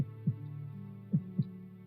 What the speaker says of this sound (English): that sort of heartbeat, that sound that you kind of hear being right next to it